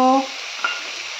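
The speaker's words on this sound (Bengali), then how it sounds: "এবার এর মধ্যে আমি কেটে রাখা টমেটোগুলো দিয়ে দেব।" Chopped tomatoes tipped into spices frying in oil, a brief tonal clink at the start and then a bright, steady sizzle with one small clatter of a utensil, no voices.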